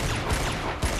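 Gunfire in the video game Uncharted: Golden Abyss, two sharp shots about half a second apart over a dense, loud bed of combat noise.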